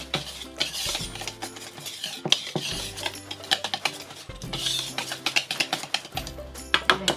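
Crumble topping being mixed in a bowl for a cake mix in a jar, with rapid clicking and scraping strokes of a utensil against the bowl, close and steady, and no talk.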